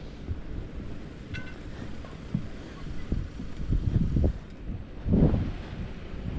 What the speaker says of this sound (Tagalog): Medyo malakas-lakas ang hangin.